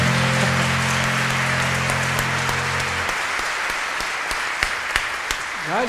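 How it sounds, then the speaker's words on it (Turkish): Audience applause at a Turkish music performance, a dense, steady wash of clapping that thins toward the end into scattered individual claps, with a lingering sung or hummed tone underneath at the start. "Alkışlar sizin için."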